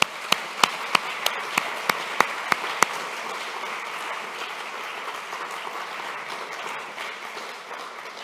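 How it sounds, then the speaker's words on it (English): Applause from the audience at the welcoming ceremony of the 5th Conference of the Network for Forced Migration Studies. About ten evenly spaced sharp claps ring out first, then a softer, steady spread of clapping continues at moderate distance. "please join me in a round of applause for them now"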